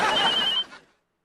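A phone rings in one short, bright burst lasting about half a second, then cuts off into silence.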